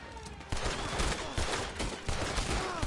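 Gunfire crackles in a Red Dead Redemption shootout, with dense overlapping shots and sharp bursts repeating through the whole stretch, loud and close.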